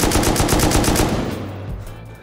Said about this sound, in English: You missed all your bullets.